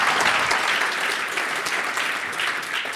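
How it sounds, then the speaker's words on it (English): A large audience claps loudly and steadily at an annual research-fund awards ceremony, a dense, continuous wash of applause with no pauses. "Please give them a huge round of applause."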